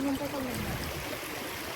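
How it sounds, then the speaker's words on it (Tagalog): River water streams and trickles steadily as carrots are soaked in the running current, a continuous close wash of flowing water with a brief tonal sound at the start. "Ayan ang ilog, oh."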